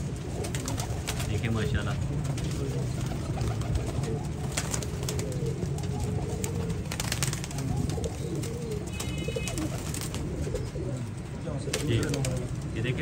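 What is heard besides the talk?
pigeons cooing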